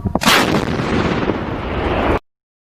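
A single booming blast from an ATAGS towed artillery gun, loud and close, with a sharp report that rolls into a long rumbling decay lasting about two seconds before cutting off.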